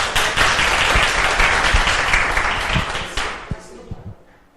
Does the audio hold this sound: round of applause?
yes